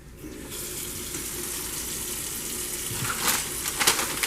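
Water from a tap fills a pre-measured holding container for dental instrument decontamination, a steady close-up rushing stream that grows slightly fuller and splashier toward the end.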